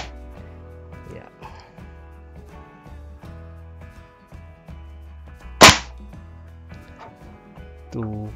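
A Worker Swift foam blaster fitted with a 1.6 spring and 550 barrel gives one sharp, loud snap of firing, standing out from steady background music.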